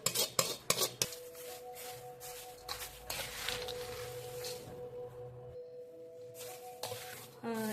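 A spoon stirs a freshly made tempering through a thin poha chiwda mixture, giving close, irregular metallic clinks and scrapes against the pan, with a brief quiet gap midway and a faint steady hum underneath.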